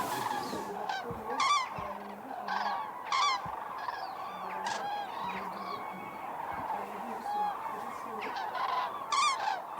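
A flock of adult common cranes in the Camargue calls repeatedly, with overlapping trumpeting cries rising and falling at a moderate distance.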